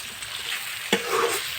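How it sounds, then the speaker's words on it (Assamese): Chicken meat with bay leaves and browned onions frying in a pan, a soft continuous sizzle with one sharp utensil scrape as it is stirred, fairly quiet and without talk. "পিঁয়াজখিনি মোৰ অকণমান ৰঙচুৱা হৈ যোৱাত এতিয়া মই লৰাই দিছোঁ।"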